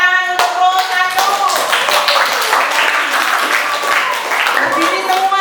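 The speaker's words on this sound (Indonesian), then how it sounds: "Tepuk tangan untuk Pro 1." A school classroom group claps hands together for a team about to perform its chant, a busy, close patter of clapping that runs under ongoing talk and background voices.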